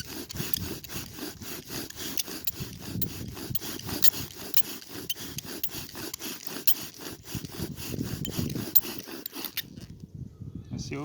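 Wooden bow drill spindle from a 1920s fire-by-friction set being sawed back and forth, a steady rhythmic rasping friction with regular strokes, close and continuous, stopping near the end.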